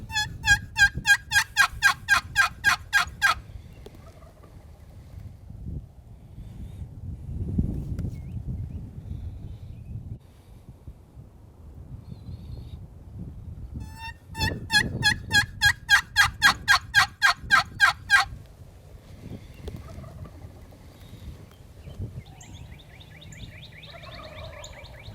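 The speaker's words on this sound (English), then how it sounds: "a bird starts gobbling in the same area Reno's bird just came from" Wild turkey gobbles ring out in two loud, rapid bursts of rattling notes, separated by quieter stretches with low rustling and softer calls in a field-edge setting.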